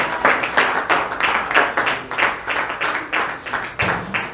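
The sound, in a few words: congregation applause in church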